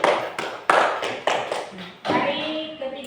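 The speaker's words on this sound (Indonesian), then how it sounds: "kita berikan tepuk tangan untuk kelompok 3" Schoolchildren in a classroom clap together in several loud bursts of rhythmic claps with brief gaps between, a voice speaking faintly under the later part.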